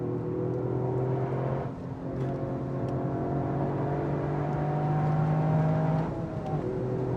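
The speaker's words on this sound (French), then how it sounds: "Et le son du moteur, il est plus engageant" A car engine drones steadily and climbs in pitch as it accelerates, a loud continuous roar with a brief dip partway through.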